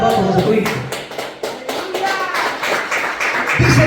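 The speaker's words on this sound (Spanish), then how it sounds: "Denle un fuerte aplauso a Jesucristo." A church congregation applauding during a Spanish-language sermon, with dense clapping and some voices throughout, swelling briefly near the end.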